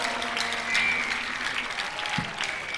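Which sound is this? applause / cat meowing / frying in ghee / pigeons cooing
applause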